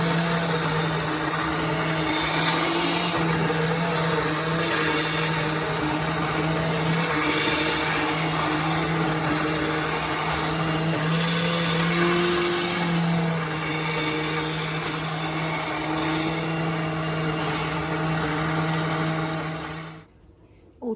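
A blender purées courgette and vegetable soup, whirring continuously at high speed, a steady loud motor hum with churning grit, then cuts off abruptly near the end.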